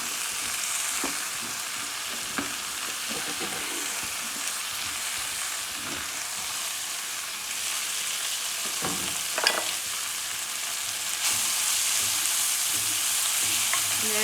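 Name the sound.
chaya mansa leaves wilting in coconut oil in a pan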